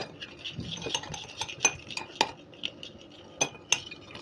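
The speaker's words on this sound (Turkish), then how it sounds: "Sen karıştır." A metal spoon clinks and scrapes against a dish while stirring, a sparse series of bright taps and scratches at irregular intervals, close and fairly quiet with no talk.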